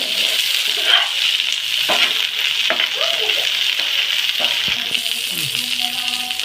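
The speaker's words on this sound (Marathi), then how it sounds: "त्याला पण आपण 1-2 मिनिटाचा फ्राय करून घेऊया." Sliced capsicum fries in a pan, producing a steady, close sizzle with occasional clinks and scrapes of stirring.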